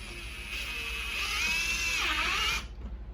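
A power drill drives a washer-head cabinet screw through wood into a cleat, a single whining burst that rises, dips in pitch under load, then cuts off, close and alone.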